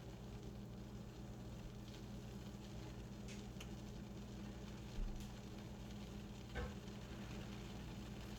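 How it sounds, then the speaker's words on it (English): A grilled cheese sandwich sizzles in a frying pan, a faint continuous hiss and crackle with a couple of soft knocks, steady and without talk. "You can hear it sizzle more."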